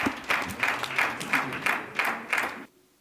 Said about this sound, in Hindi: जोरदार तालियां बजा के आइए